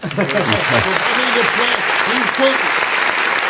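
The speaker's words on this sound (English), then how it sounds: "Got to give you some applause again on that, brother." Audience applause for a musician during a live talk-show gathering, a steady clapping wash lasting throughout while someone speaks over it.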